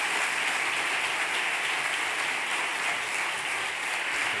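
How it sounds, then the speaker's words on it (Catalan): Sustained applause from an audience welcoming the director of Casa del Tíbet, a dense, steady wash of many hands clapping that fills the room evenly throughout, with no voices over it. "un aplaudiment per la seva rebuda"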